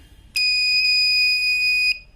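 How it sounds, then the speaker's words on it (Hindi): Buzzer on an inverter PCB sounds once after a PIC16F72 microcontroller is programmed. It gives a single steady electronic beep of about one and a half seconds, clear and close over a faint hum. "1-1 सेकंड का बजर साउंड यहाँ पे आएगा अगर आईसी हमारी ऊपर वाली प्रोग्राम हुई होगी तो"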